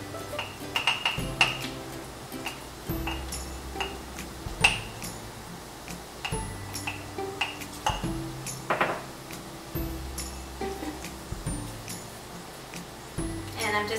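A spoon stirring flour into a metal pot to make a roux for chicken pot pie, producing faint, irregular clinks and scrapes against the pot, one after another.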